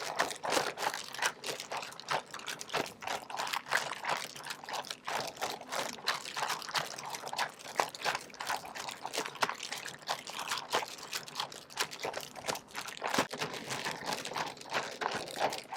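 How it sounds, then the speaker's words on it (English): Sterile filtered, preheated water flowing into a Readystream rediluting system, an uneven pouring and trickling with irregular splashy bursts and drips, fairly faint and steady throughout with no voices. "we are rediluting this media with sterile filtered, preheated water"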